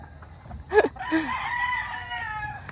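A rooster or chicken on a Cavite poultry farm gives a short, close vocal burst with a rising squawk, followed by softer trailing clucks over faint background noise.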